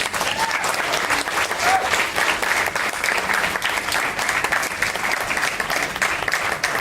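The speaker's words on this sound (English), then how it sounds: "Another round of applause, please" Audience applause at a company staffing firm event honoring longtime employees, sustained, dense clapping from a sizable crowd with a few voices mixed in underneath.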